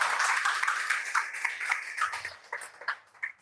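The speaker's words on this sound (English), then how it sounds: "give him a round of applause" Audience clapping, a fairly small group, quiet and distant, thinning into a few scattered claps toward the end.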